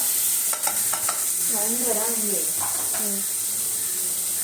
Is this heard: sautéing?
yes